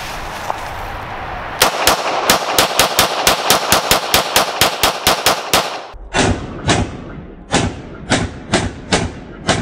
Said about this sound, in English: we are going to mag dump out of my duty pistol. I'm gonna put about 17 rounds into it